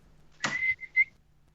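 A man whistles an imitation of a referee's trademark whistle: a short rushing breath into a shrill note, then two quick sharp chirps, close and alone.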